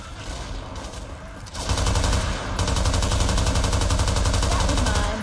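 Automatic gunfire in the video game Left 4 Dead 2, a loud, dense rattle of rapid shots that runs without a break and grows more intense partway through.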